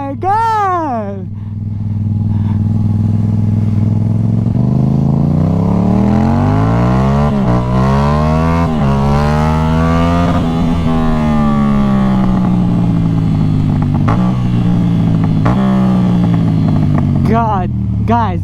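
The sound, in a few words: stunt motorcycle riding, engine revving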